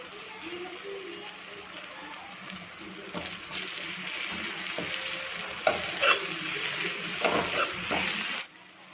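Onion, tomato and ginger-garlic paste masala cooking in a pan for prawn masala, a steady loud sizzle with stirring scrapes and clatters that builds toward the end before stopping abruptly.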